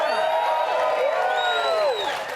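A Nashville studio audience at a late-night comedy talk show cheers and whoops loudly, with applause and rising, sliding yells filling the short burst.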